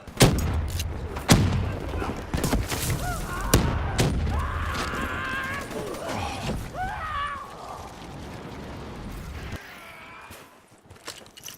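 Frag grenade blast amid gunfire in a Call of Duty Black Ops 3 campaign battle, loud booms and crackling shots up front giving way to rumbling debris and fading combat noise, with a voice faintly under the mix.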